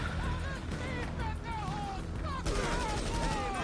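Gunfire in the video game GTA crackles in rapid bursts and volleys, mixed with whining game effects and a steady background din, while voices talk over it.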